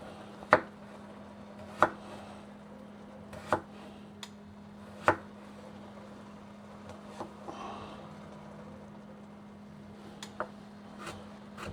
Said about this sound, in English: if you have a very sharp knife, you just have to be careful when you're chopping